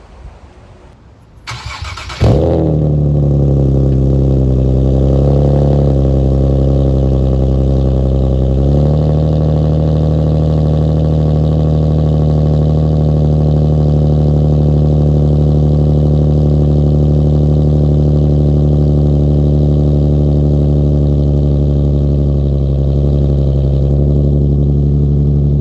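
A Nissan 370Z with a Greddy GPP RS-Race exhaust cold-starts, cranking and catching after a couple of seconds, then settles into a steady, loud idle that holds unchanged, close by.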